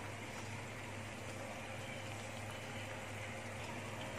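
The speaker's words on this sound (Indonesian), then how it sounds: "Kita goreng sampai kuning keemasan ya, sambil terus-terus dibolak-balik" Bolang baling dough fries in hot oil in a wok with a soft, steady bubbling sizzle. The sound is quiet and continuous, over a low background hum.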